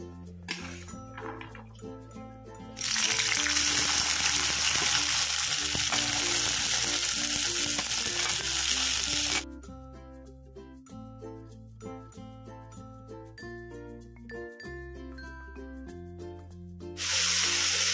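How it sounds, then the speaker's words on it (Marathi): French beans (ghevda) sautéing in oil in a pan: loud, close frying hiss that rises sharply for several seconds, then drops away, with background music playing throughout and occasional soft clinks. "हा जो घेवडा आहे हा आधी आपण परतून घेणार आहोत त्याच्यामध्ये"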